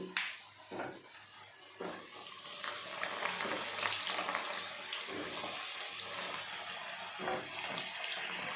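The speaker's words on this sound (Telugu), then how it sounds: "ఇప్పుడు నూనె వేడైంది, కాయలు వేసుకుంటున్నాం." Indian gooseberries fry in hot oil for a Telangana-style pickle, giving a continuous crackling sizzle with bursts and spatters, fairly faint and steady throughout, with no voices.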